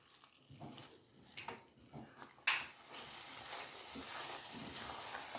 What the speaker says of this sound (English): Cook the potato with this masala for about 2 minutes.